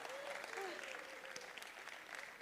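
Applause from a festival audience patters steadily, faint and somewhat distant, while a voice talks over it.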